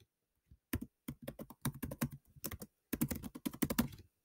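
Fingers tapping out an email address on a computer keyboard, quick irregular clusters of crisp keystrokes with short pauses, close and clear in a quiet room.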